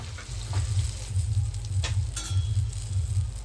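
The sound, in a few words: fish frying in a pan on low gas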